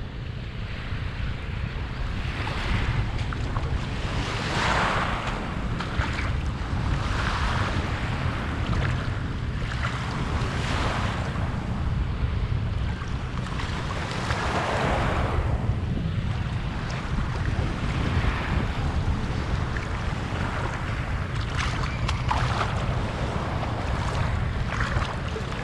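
Sea waves roll in on a Philippine island beach under strong gusting wind, a loud continuous roar of surf with repeated swelling breaker surges and wind buffeting the microphone.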